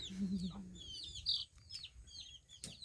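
Chickens cluck and chirp in a rural Lao village yard, several short calls scattered across the moment over a low background murmur.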